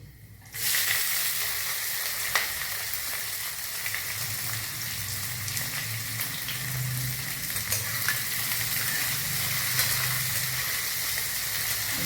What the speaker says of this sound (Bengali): পেঁয়াজটা দিয়েছি, পেঁয়াজটা একটু তোমার দিয়ে কাঁচা ভাবটা কাটিয়ে নিয়ে একটু ভেজে নিয়ে আমি বাড়িয়ে দিই